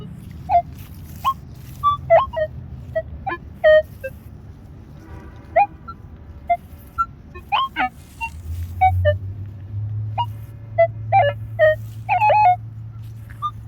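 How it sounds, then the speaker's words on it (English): A metal detector, a Garrett AT Pro, emits a series of short, high-pitched squeaky beeps at irregular intervals over a low steady hum while searching for silver in Oregon. "Every time you hear one of those little high squeaky tones, I hear the silver tone"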